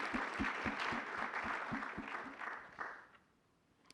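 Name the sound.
applause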